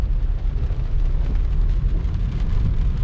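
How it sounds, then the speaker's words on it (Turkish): Rain falling on a street in Maykop, Russia: a loud, steady, close wash of low rumbling noise that continues without a break and has no voices over it. "Bugün de gayet yağmurlu bir gün."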